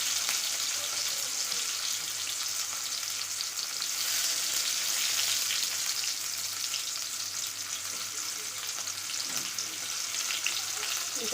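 Onion, green chilli, cumin and garlic fry in a pan with a steady, moderately quiet sizzle and crackle that holds evenly throughout, with a few faint stirring sounds near the end and no talk.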